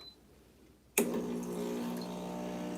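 A Casabrews 4700 espresso machine starts dispensing hot water after a second of near quiet, giving a sudden steady pouring stream with a faint mechanical hum underneath.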